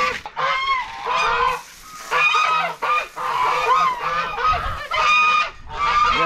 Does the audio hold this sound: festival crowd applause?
no